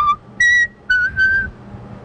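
A child attempts to whistle, producing four short, clear, wavering tones separated by brief pauses, loud and close with no talking.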